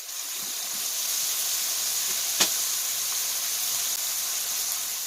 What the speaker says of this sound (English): Also going to add some garlic.